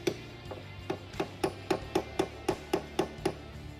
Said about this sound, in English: I picked up both hammers, using one hammer as a knockdown on the crown just above the dent.